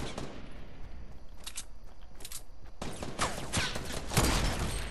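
Gunfire in Fortnite during a squad match: clusters of sharp shots in bursts, some rapid and overlapping, with a louder close burst near the end over steady game ambience.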